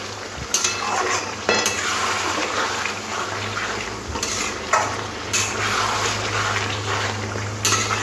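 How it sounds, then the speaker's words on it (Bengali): Chicken being stir-fried in a spice mix, a continuous close sizzle broken by repeated bursts of louder hissing as the pieces are stirred, with a low steady hum underneath. "দিয়ে ভালো করে মশলার সাথে চিকেনটা কষে নেব।"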